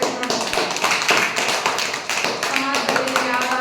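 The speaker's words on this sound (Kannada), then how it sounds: "ಚಪ್ಪಾಳೆ ಹಾಕ್ತೀವಿ," Students in a classroom clap together at the teacher's prompt, a fast dense patter of hands at close range, with a voice speaking over part of it.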